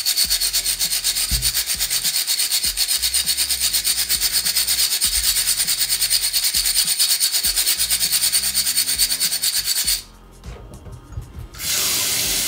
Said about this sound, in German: die Smokebox schrubben.